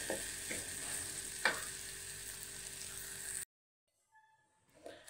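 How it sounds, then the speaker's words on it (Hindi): Potatoes tossed with turmeric and spices sizzle and scrape in a pan for about three and a half seconds, with a few sharp stirring knocks, then cut to near silence with faint clinks. "इसको अच्छी तरह हम मिक्स करेंगे अच्छी तरह"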